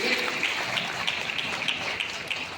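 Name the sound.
loud applause for the children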